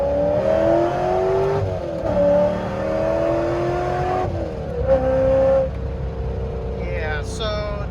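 A supercharged C5 Corvette Z06 making a third gear pull, its engine note climbing steadily in pitch with brief dips at shifts, loud and close from inside the car, with a short chirp near the end.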